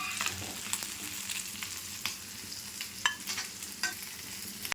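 Small anchovy (nethili) fish crackle and sizzle steadily in hot oil, a dense close spattering with occasional sharper pops and stirring scrapes, no voices.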